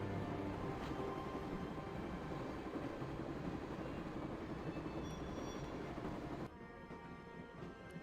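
Train carriage interior ambience from the Broken Sword video game: a steady, dense rumble and rattle continuing throughout, easing to a slightly quieter level near the end.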